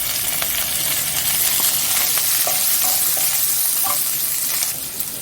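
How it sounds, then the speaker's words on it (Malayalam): Curry leaves and other chutney ingredients frying in a pan for a Kerala-style coconut-free chutney, a loud continuous sizzle and crackle with occasional stirring scrapes, close and steady throughout. "ഈ സമയത്ത് കറിവേപ്പില ബാക്കി ചേരുവകൾ ഓരോന്നായിട്ട് ഇട്ട് കൊടുക്കാം"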